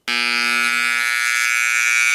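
Stacked transformer plates buzz against each other in a steady, loud mains hum that starts abruptly and holds with a bright, rattling edge for about two seconds, with no voices.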